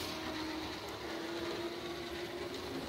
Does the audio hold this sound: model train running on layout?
yes